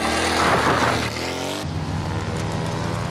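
A car from the 1989 film Indiana Jones and the Last Crusade roars past at speed, a loud engine sweep that drops pitch midway before cutting off abruptly.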